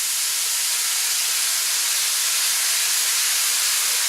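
Green beans hit a hot pan for a vegetarian curry, giving a loud, steady sizzle and hiss that runs unbroken and close throughout, with no voices.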